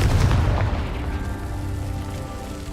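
Spell blasts cast in the video game Hogwarts Legacy: a loud booming burst up front that rumbles and slowly fades into a dense, crackling, rain-like wash.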